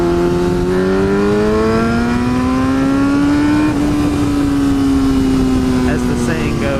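A Yamaha R6 motorcycle engine climbing steadily in pitch under acceleration, then briefly dipping and holding, loud and close over strong wind rush, with a rider talking throughout.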